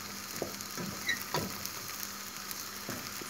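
Uvmaç helva, the Iğdır-style flour halva, sizzles quietly in a pan while a spoon stirs it, giving a soft steady crackle broken by a few light scraping taps against the pan.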